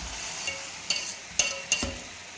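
Vermicelli mixed with jaggery syrup is stirred in a pan, with a few brief scraping clicks over a faint, steady sizzle.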